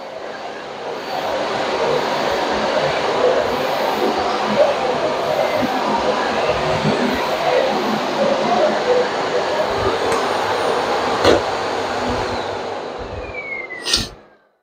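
Miele Complete C3 cylinder vacuum cleaner running with a steady loud broadband roar throughout, ending abruptly as it shuts off.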